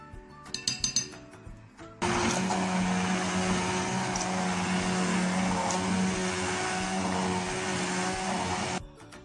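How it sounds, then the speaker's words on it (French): A blender runs steadily for about seven seconds, mixing homemade chocolate sauce for pancakes, after a few glassy clinks at the start; the motor drone is loud and even, then cuts off. "Et maintenant, je vais mixer"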